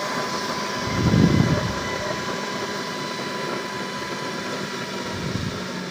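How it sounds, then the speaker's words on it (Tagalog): A mini blower feeding a waste-oil burner runs at high speed, giving off a steady, loud whooshing hum with a fan-like whine that holds constant throughout. "At ito naman po yung mini blower nyo guys. Malakas po yan."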